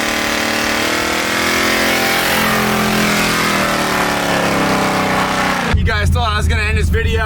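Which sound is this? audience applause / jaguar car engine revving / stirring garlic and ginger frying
jaguar car engine revving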